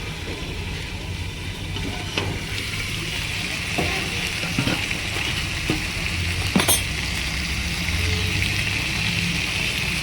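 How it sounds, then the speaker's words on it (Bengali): Food frying under a lid in a pan over a medium flame, a steady muffled sizzle with occasional clinks and knocks standing out from the even hiss. "দু মিনিটের মতন ঢাকা দিয়ে এটাকে ভেজে নেব"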